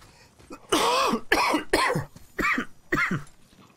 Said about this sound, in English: Oh, I missed the mute button for my coughing.